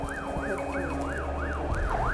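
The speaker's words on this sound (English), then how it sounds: "I can hear our ambulance" An ambulance siren sounds near a house fire rescue, wailing in a regular rising and falling pattern over a low engine rumble.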